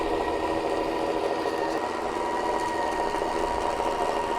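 A mixer fitted with two whisks whips cream in a bowl, giving a steady, loud motor whir with a fine rattling buzz that holds constant throughout, with no talking.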